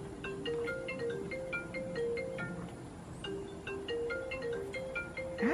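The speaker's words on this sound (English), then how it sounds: "I hear my phone ringing somewhere." A mobile phone rings somewhere in a house, a repeating melodic electronic tone pattern in a steady rhythm, moderately loud and heard alone.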